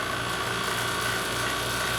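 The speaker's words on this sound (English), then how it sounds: "So that is the sound of the high vacuum being reached." A vacuum pump reaching high vacuum gives a steady, loud mechanical drone with a fast, even rattling pulse throughout, unbroken and close.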